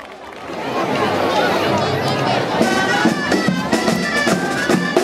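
Outdoor audience at a Catalan giants gathering in Manlleu gives a loud, sustained round of applause and chatter for the Malgrat giants troupe, dense clapping mixed with crowd hubbub throughout.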